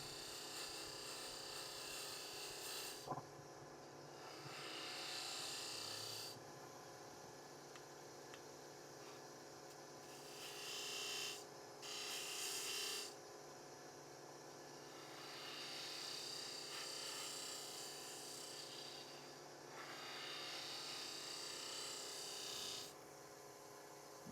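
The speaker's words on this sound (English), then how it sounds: "Just using my skew chisel almost like a scraper here." A skew chisel used like a scraper against a spinning purpleheart wood blank on a lathe for a small lidded box, giving a steady hissing rasp in several bursts over the constant drone of the lathe motor.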